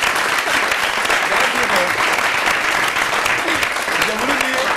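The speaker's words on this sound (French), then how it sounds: "J'ai voulu dire applaudissements pour Taliane, maman." A studio audience applauds a female musician on a Burkinabè TV variety show, steady dense clapping filling the whole stretch at a loud, even level with a few faint voices mixed in.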